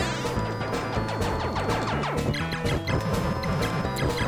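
A bee nest is smashed in the Sega Mega Drive game Wonder Boy 3: a dense, loud buzzing crash of game sound effects over busy music, no speech.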